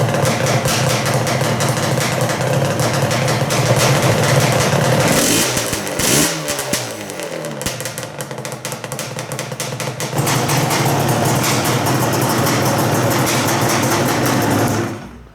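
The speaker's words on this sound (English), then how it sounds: "So I'm going to start the bike now and see how it behaves." A Yamaha Banshee motorcycle with freshly serviced Mikuni carburetors and new intake clamps starts up and runs loud and close, a raspy two-stroke engine with revving bursts, a brief dip mid-way, then a steady buzzing idle.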